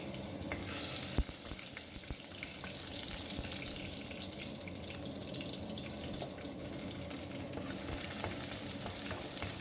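Chopped ginger and garlic fry in hot oil for a bilimbi (irumban puli) pickle, giving a steady, fairly quiet sizzle that holds evenly throughout with a few faint clicks and no voices.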